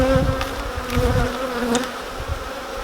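Honey bees buzz in an opened beehive during an inspection, a dense, close, continuous hum with wavering tones as individual bees pass near.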